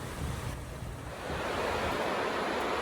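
The Esopus Creek flows steadily nearby as a broad, even rush of water mixed with some wind noise on the microphone, continuous and fairly loud, with nobody speaking.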